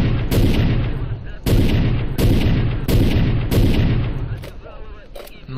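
Five heavy sniper rifle shots in the shooter game S.T.A.L.K.E.R., each a loud sharp blast with a long rumbling tail, fired at roughly one-second intervals, followed by a short mechanical reload clatter.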